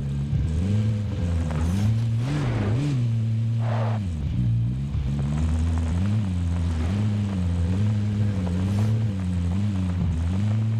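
Vehicle engine in Call of Duty Warzone on the Caldera map, a continuous loud droning hum that wavers in pitch as it accelerates and eases off, with no talk over it.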